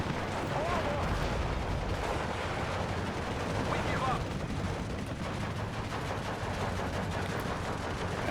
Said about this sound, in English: Mortars now coming in for the IG-18